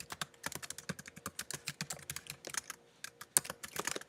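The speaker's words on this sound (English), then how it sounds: "we're going to type this entire sentence" A computer keyboard is typed on in quick, irregular bursts of crisp key clicks, close and clear with no voices.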